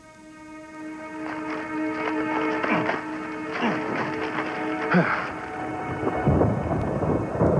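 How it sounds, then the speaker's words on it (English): A thunderstorm with repeated rolling thunder crashes over steady rain, loud and close, with a voice briefly audible among the rumbles. "The storm's coming."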